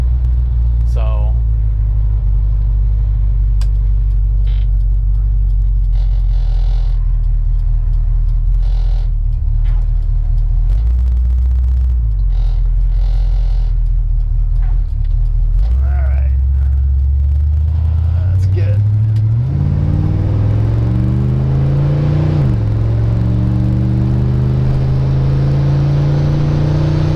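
A 1970 Chevrolet Nova cruises with its engine droning steadily up close, revving and shifting as the pitch climbs near the end, while someone talks over the engine noise.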